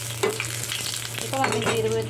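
Whole cumin, one dried red chili and two small bay leaves fry in hot oil for a prawn and cabbage dish, giving a steady close sizzle with light stirring and a brighter crackle near the end.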